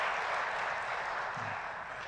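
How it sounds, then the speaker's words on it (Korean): Applause from a church congregation during an evangelism lecture, a steady dense clatter of many hands filling the room at a constant level throughout, with no voices over it. "박수 한번 보내주시기 바랍니다."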